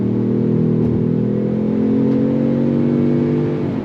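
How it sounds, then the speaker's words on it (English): A 2025 Ford Bronco Sport Badlands with an 8-speed automatic pulls hard under throttle, its engine note building in a steady, loud drone of stacked rising harmonics that holds strong before easing off right at the end; no talking. "On throttle, here we go. 8-speed drops down and we're off."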